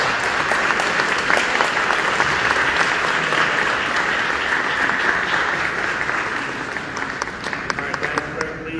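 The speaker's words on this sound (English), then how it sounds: "Let's give him another round of applause." A room of attendees at a Cleveland City Council meeting applauds, dense sustained clapping filling the chamber for several seconds before gradually thinning toward the end.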